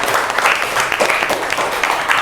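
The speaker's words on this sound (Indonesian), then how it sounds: "Berikan dulu aplaus untuk kelompok 1" Students in a classroom give a round of applause for group 1, a loud, dense patter of clapping hands lasting a couple of seconds.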